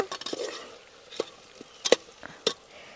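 Garlic and onion frying in a pan while being stirred for an Arabian chicken madhooth, with a faint sizzle under scattered spoon scrapes and several sharp clinks against the pan, no voices.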